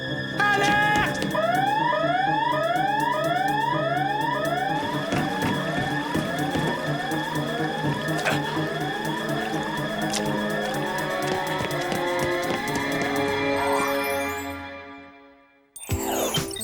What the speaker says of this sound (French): Alerte!